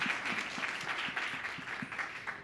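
Audience applause at a health startup festival, a steady wash of many hands clapping at moderate, slightly distant level, continuing evenly without voices over it.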